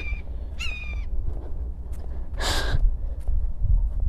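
A bird gives a few short harsh calls, one longer raspy cry standing out midway, over a steady low background rumble.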